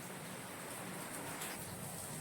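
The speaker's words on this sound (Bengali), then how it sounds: "আবার জোরে আসলো বৃষ্টি" Heavy rain falling, a continuous soft hiss of drops spread evenly across the whole stretch, heard at low level with no talking over it.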